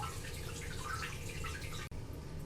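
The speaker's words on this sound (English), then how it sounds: "The bowl is filling, so I'm going to let that fill up until it stops" An American Standard Champion 4 toilet bowl filling with water after installation, a steady close rushing and trickling stream with faint dripping, briefly cut off near the end before resuming.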